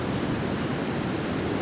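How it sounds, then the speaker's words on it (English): Large ocean waves, around twenty feet high, crash continuously close by, forming a loud, steady roar of surf with wind and no pause across the short stretch. "Those waves are unbelievable."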